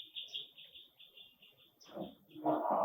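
A bird chirps in quick, repeated high notes that are fairly faint and continue throughout. Near the end a louder burst of rustling noise comes in.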